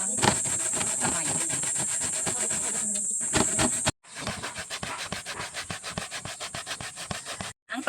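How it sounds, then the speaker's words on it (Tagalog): Peeled cassava root scraped by hand against a sharp grater, a fast run of rhythmic rasping strokes that pauses briefly twice before carrying on, close and steady with no talk. "Ito yung kamuting kahoy kuskusin namin"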